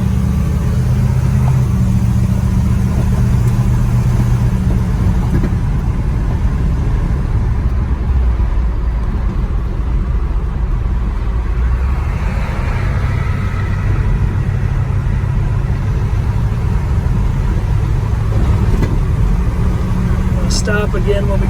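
A 1959 Chevrolet Apache pickup truck drives along a curving road, its mid-pitched engine droning steadily with road rumble inside the cab while someone talks over it throughout.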